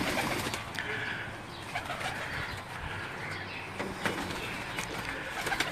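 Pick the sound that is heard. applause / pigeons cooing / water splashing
pigeons cooing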